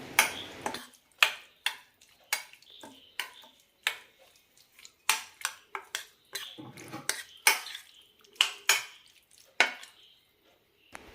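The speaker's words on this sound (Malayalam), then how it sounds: "നന്നായി മിക്സ് ചെയ്യാം." Kerala-style mango pickle being stirred in a vessel gives a string of sharp spoon-on-vessel clicks and taps in an irregular rhythm, close and fairly quiet, with no talking.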